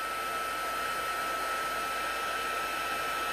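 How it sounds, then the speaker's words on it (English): An embossing heat tool blows hot air over a shimmer white flower embossed card, a steady, close, continuous hiss of fan and airflow with no pauses and no talk. "the heat tool is very hot, so you don't want to put your fingers under it"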